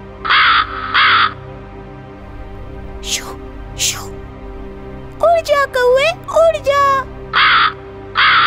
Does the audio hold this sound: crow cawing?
yes